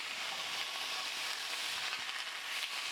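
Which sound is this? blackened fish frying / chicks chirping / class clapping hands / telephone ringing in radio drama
blackened fish frying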